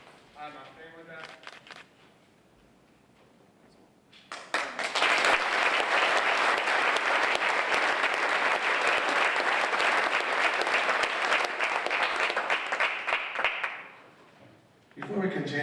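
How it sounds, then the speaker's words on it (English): An audience at the Waynesburg Forum bursts into sustained, loud applause for a group of speakers, lasting about nine seconds before fading; a voice talks quietly before the clapping starts and again after it ends. "we've just applauded all of these speakers"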